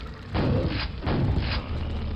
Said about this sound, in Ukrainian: Ну давай гранату дамо. Зараз вибухне.